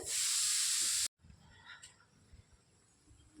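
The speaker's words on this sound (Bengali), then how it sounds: "এটা ভাজা হয়ে গেছে এবার আমি ডিমগুলো দিয়ে দিচ্ছি" Beaten eggs hit a pan of frying onion and spices and set off a loud, bright sizzle for about a second before it cuts off into quiet kitchen background.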